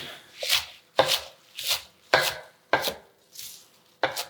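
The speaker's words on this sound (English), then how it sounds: "So these are just the whole piece of kale. Chopping quickly," Quick knife chopping of kale on a board, seven firm crisp strokes in a steady rhythm, close up with no talking.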